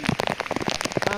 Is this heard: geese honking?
no